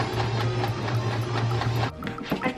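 A sewing machine stitching a seam on a handmade spring top, running steadily and close for about two seconds with a rapid mechanical whir, then stopping, followed by a few faint clicks.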